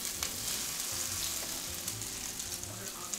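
Keto fried rice sizzles steadily in a frying pan while it is stirred and mixed, a close, continuous crackle with soft scraping throughout.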